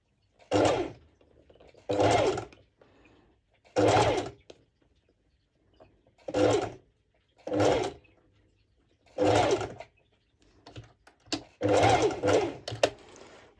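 A serger runs in repeated short bursts as it stitches fabric, about eight loud whirring runs of a second or so each, separated by near-silent pauses, close by and with no talk.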